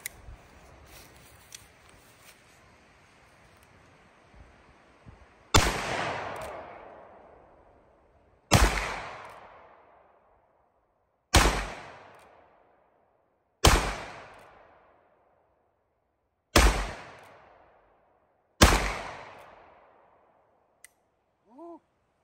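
Six loud, sharp revolver blasts from a Ruger Super Blackhawk .44 Magnum firing heavy 310-grain bullets over H110 powder, spaced a few seconds apart, each with a long decaying echo, following a stretch of quiet handling noise.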